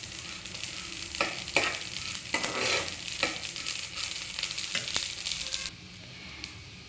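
Rice roasting in hot ghee in a pan for kheer, a spatula scraping and stirring in repeated strokes over a continuous crackling sizzle that grows quieter near the end.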